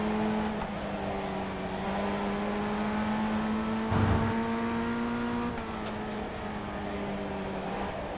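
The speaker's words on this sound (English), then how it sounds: "Lots of revving." Race car engine in a racing video game revving steadily with sustained, shifting tones and a brief louder burst midway, loud and continuous with no talk.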